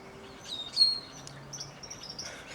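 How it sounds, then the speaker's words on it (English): Blackbirds sing outdoors in a quiet setting, with several clear chirps and whistled phrases arriving in short bursts, one louder call standing out near the start, the birds fairly close. "It's nice to hear these birds, but these blackbirds are rather loud."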